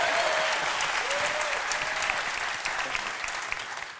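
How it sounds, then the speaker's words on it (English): Live audience applause at a Hard Fork Live stage event: dense, sustained clapping from a large crowd, loud at first and gradually tapering off over a few seconds. "so please do give her a round of applause"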